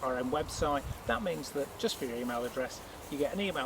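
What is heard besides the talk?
None of the usual background noises is heard.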